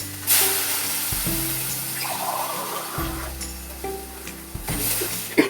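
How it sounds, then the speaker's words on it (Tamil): Water splashes into a sizzling pan of paneer kurma masala, with stirring and a steady fry hiss throughout and a brief pouring burst near the start. "இங்கே இப்போ இதில் கொஞ்சமாக தண்ணி சேர்த்துக்கலாம்."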